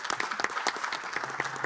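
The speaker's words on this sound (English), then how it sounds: "I think it deserves an applause" Brief applause in a European policy meeting hall, a quiet, moderately dense patter of hand claps lasting under two seconds.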